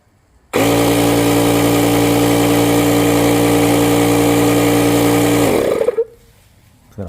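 A Lokithor Apart X portable tire inflator pump set to 35 psi runs with a steady, loud buzzing drone close by, starting abruptly and cutting off after about five seconds.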